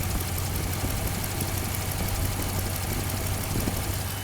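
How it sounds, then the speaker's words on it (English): Steady broadband whir and hum from the belts and idling 6.4-liter Hemi V8 of a 2014 Jeep Grand Cherokee SRT8, recorded up close in the engine bay, constant and unbroken throughout. "so you can hear the belts spinning."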